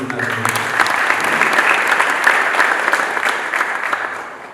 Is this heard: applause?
yes